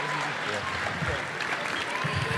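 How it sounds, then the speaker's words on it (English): Audience applause at a live basketball event at the Hoop Hall: dense, steady clapping from a large crowd that fills the whole stretch, with voices mixed into the noise. "Ladies and gentlemen, one final round of applause for our new friend, Romeo Langford."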